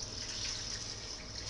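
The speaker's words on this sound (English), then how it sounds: "I'm going to add, I've got 4 cups of water" Water pours steadily into a soup pot for Hungarian cauliflower soup, a constant close hiss and splash running throughout with no talking.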